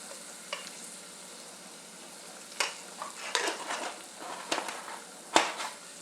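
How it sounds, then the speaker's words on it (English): A spoon stirs khichdi of rice and lentils in a pot over a soft background sizzle, with irregular scraping and clattering strokes that grow busier toward the end. "I'm just going to stir it up."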